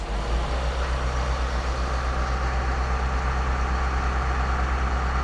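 An Allis tractor engine runs steadily near idle, a loud continuous diesel-like rumble with strong low drone that holds fairly even throughout, with no talk over it.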